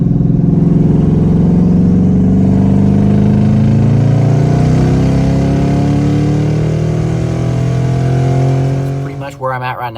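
A twin turbo Ford Mustang engine pulls hard through 4th gear, its deep drone rising steadily in pitch, loud and close, before the revs drop off abruptly at the end.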